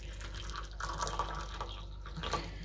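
Coffee poured from a cup into a bowl while making homemade tiramisu, a steady close liquid stream with light splashing that runs for about three seconds with no talking.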